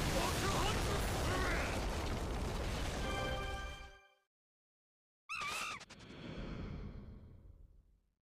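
A big explosion effect in the Fate/Grand Order game, a long roaring blast that fades to a short silence, then a sharp burst with crackling debris that dies away.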